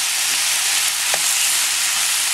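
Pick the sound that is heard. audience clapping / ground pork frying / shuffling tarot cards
ground pork frying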